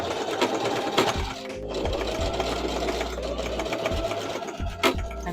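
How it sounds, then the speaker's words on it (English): A sewing machine runs close up while top stitching a hair bonnet, a steady whirring hum with rapid needle clatter, broken by a few short pauses and knocks. "Stretch it out, and then I'm gonna top stitch."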